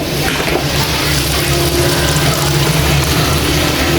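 Water runs steadily over peeled taro (arvi) in a kitchen, a loud, continuous broadband rush with faint clinking, close and without speech.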